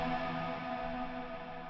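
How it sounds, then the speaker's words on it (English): Ambient reverb tails from a Fractal guitar effects processor ring on after the delay is switched off, a sustained tonal wash that slowly fades on its own. "When I switch off the Plex delay, I can still continue to hear the tails of the reverb."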